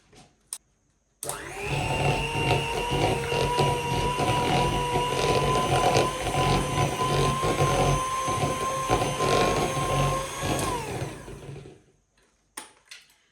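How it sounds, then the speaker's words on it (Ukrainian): An electric hand mixer whirs steadily at close range for about ten seconds while beating a piece of butter for Baku kurabye shortbread cookies. It starts and stops abruptly, with a faint clatter at each end. "Для того, аби ось такий шматочок масла легше було перетерти, ми спочатку його трішки підіб'ємо міксером."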